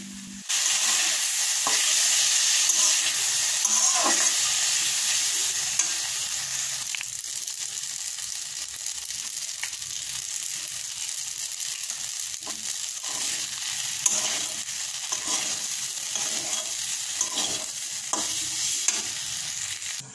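Boiled pasta gets stirred with Maggi masala in a frying pan: a continuous loud sizzle with intermittent spatula scrapes and taps against the pan throughout.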